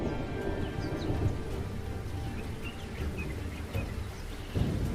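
Steady rain pours down with low rumbling thunder rolling underneath, and faint bird chirps come through now and then.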